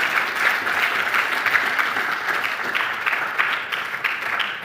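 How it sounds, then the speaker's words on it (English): An evening design systems meetup crowd at WiseTech Global in Sydney claps for its speakers, a steady indoor patter of many hands at moderate loudness with slight swells throughout. "let's give one final round of applause to our speakers this evening"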